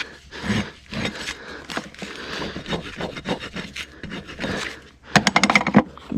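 A rasp scrapes back and forth across a mustang's hoof in steady rhythmic strokes, close and gritty, ending in a quicker run of short raspy passes.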